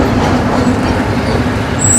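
An old Soviet-style electric commuter train in Bulgaria rumbles loudly and steadily from inside the carriage, a dense low roar of wheels and motors with faint rattling, no voices.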